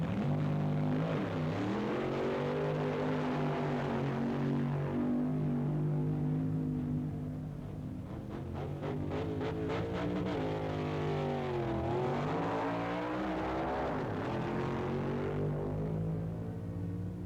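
A 1965 drag racing car roars past with a loud, sustained engine note that rises and falls, close and dominant with no voices over it.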